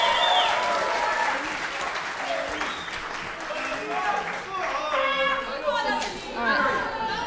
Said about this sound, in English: So everyone give them a round of applause, please.